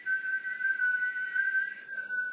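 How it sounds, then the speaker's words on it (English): A person whistles one long, steady, high note that dips slightly near the end, faint and close, with no other sound. "So by whistling, I'm working my buccinator and my orbicularis oris."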